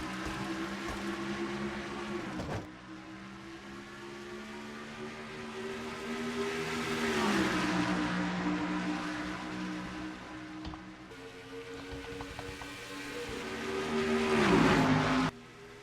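Race car engines roar past one after another, pitch climbing as they wind up in third gear, then dropping sharply on the shift to fourth before winding up again, loud and continuous, at Darlington.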